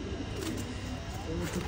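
A pigeon coos softly in low, repeated murmurs against a steady background hum, with no other sounds standing out.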